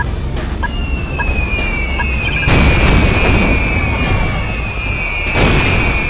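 Booming explosions rumble in the Red Alert 2 real-time strategy game as airship bombs hit, heavy low blasts layered with a falling whistle and scattered game effects.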